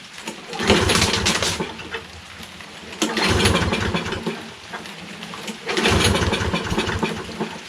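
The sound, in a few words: Toro Recycler lawnmower Kohler XT675 engine starting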